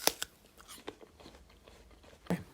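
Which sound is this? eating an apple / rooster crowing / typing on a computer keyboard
eating an apple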